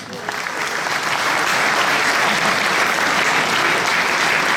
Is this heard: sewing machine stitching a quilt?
no